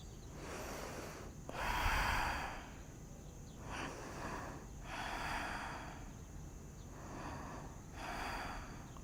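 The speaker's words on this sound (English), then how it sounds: "Take 3 deep breaths here." Slow, deep breaths are drawn in and out during a seated inner-thigh and groin yoga stretch. The breathing is close and fairly soft, with several airy inhales and exhales rising and falling in a steady rhythm.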